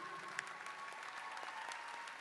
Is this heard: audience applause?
yes